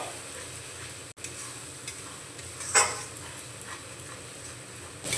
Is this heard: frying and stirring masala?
yes